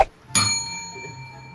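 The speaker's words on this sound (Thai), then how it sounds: "กดกระดิ่งก่อนตอบ" A single bright bell ding is struck to answer in an anime location quiz game, ringing out clearly and decaying slowly over a second, with a brief voice just before it.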